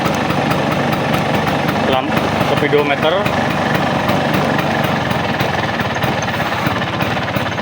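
A Vespa scooter engine idling rough and sputtering, a loud continuous rapid putter with uneven misfiring beats, close to the microphone while someone talks over it.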